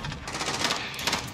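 Rapid enemy gunfire from an automatic weapon in the Call of Duty: Modern Warfare Shoothouse map, a dense, steady rattle of shots that stays fairly loud throughout with a brief burst standing out near the end.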